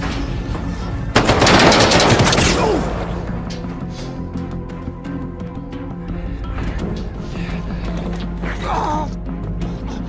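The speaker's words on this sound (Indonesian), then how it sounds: "Dengan susah payah Merryman yang berusaha kabur melewati pembatas malah terkena tembakan dari Nick." A loud burst of rapid gunfire in a film scene, then scattered sharp shots and clatter under music and ambient noise, with a voice briefly audible.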